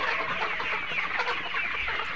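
Farm chickens cluck close by on a winter morning as they crowd after a person expecting feed, a busy overlapping chatter of hens with no voices.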